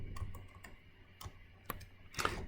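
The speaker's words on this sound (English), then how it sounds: "So I'll just type this thing in. Just type it in." Keys tap on a computer keyboard in a short, irregular run of soft clicks, close and quiet with no voice.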